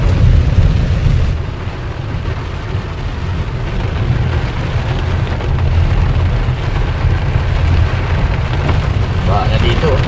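Heavy rain pounds a car on a long road trip in the Bicol region amid a thunderstorm, a dense, steady roar of rain on the vehicle with low road rumble throughout and people talking now and then.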